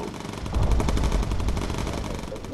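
Bomber gunners in the World War II game Bomber Crew fire machine guns in a rapid, continuous rattling burst, loud and dense throughout the short stretch.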